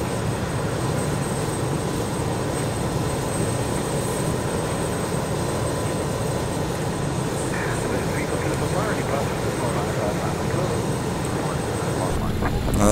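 Airliner engines of a BAE 146 on ILS approach in Microsoft Flight Simulator, with flaps and landing gear out: a steady, loud broadband roar and hiss that holds constant throughout.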